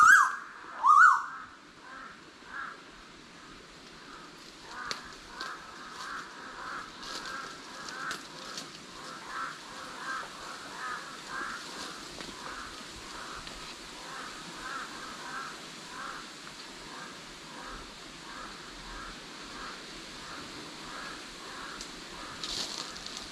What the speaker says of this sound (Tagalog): Oh may mas matataas uwak